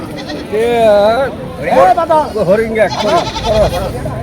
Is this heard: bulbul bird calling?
no